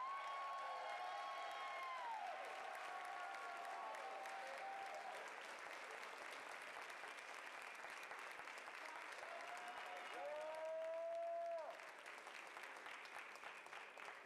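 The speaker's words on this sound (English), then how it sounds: "Let's give a nice round of applause for Miss Continental," A pageant crowd applauds the reigning Miss Continental, Sasha Colby, at Miss Continental Plus 2013: sustained clapping with scattered whoops and cheers, while music or voice tones rise and fall over the din.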